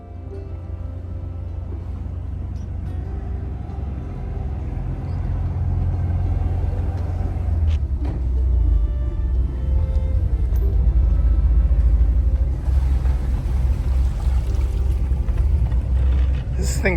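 Twin four-cylinder Ford Lehman diesel engines aboard a Cheoy Lee 40-foot trawler run steadily, a deep continuous rumble with a slight rattle that swells midway, with some background voices and water noise.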